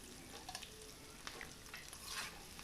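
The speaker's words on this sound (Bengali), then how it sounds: "এবারে আমি যে মাছের টুকরোগুলোকে ভেজে রেখেছিলাম সেগুলো এর মধ্যে দিয়ে দিচ্ছি" Pre-fried fish pieces added to a pan for chilli fish and stirred, giving a quiet sizzle with soft scraping and clatter bursts, faint and close.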